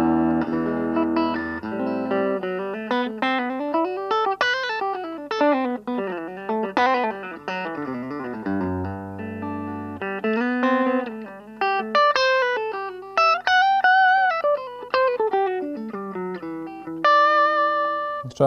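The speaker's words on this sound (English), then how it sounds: "here's a clean sound, humbucker guitar in the middle position" Clean electric guitar with a humbucker in the middle pickup position and no reverb, playing bright, sustained melodic lines with bends and slides over low notes, close and loud with no voices.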